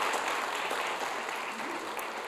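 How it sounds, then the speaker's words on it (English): Steady audience applause fills the room at a closing summit session, a dense, even wash of many hands clapping throughout without a break. "Let's give another round of applause for our poet laureate"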